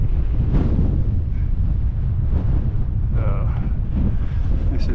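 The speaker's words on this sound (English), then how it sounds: "Yeah, very windy up here." Strong wind blowing at the Hogan and Antelope House overlook in Canyon de Chelly, Arizona, a loud constant roaring buffet against the microphone, with someone speaking briefly beneath it.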